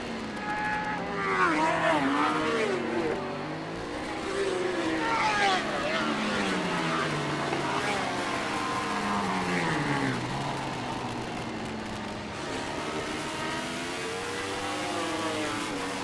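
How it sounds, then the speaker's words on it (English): A superbike engine screams past at an Open Superbike road race at the AFM 2014 Round 5 meet, with rising and falling revs as bikes pass and shift, under a race commentator's continuous voice. "That is Sebastian Ferrara on the big yellow bike."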